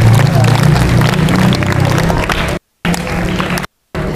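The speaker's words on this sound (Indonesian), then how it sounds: "tepuk tangan untuk kalian" A crowd claps at an Indonesian religious motivational gathering. The loud, dense applause is mixed with chatter and babble, and it is cut by two short moments of silence near the end.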